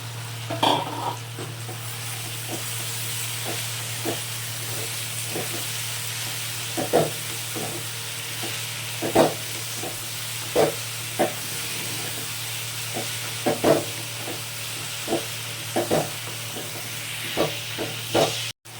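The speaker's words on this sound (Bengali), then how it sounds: "এবার সোয়াবিনগুলো আমি এর মধ্যে ঢেলে দিলাম" Soybean chunks sautéing in a pan, a constant hissing sizzle punctuated by regular sharp scrapes and taps of a spatula stirring, close up, with a low steady hum underneath.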